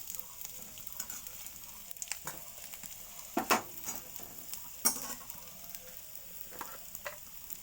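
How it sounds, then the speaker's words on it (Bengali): Chopped onions fry gently in a pan over low heat, a soft, quiet sizzle broken by a few sharper scrapes and clinks as they are stirred. "একদম কাঁচা অবস্থায় দেবো না, একটু ভাজা ভাজা করব।"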